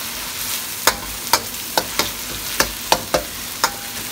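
Prawns and garlic frying in canola or peanut oil in a wok, a steady hiss broken by a regular series of sharp spatula strikes against the wok, close and clear with no voices.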